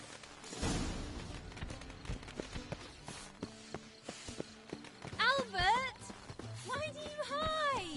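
Horse hooves clip-clopping in The Witcher 3 video game, a string of light, uneven hoof knocks at a walking pace under game ambience, with a voice and a horse's neigh-like calls briefly sounding over them.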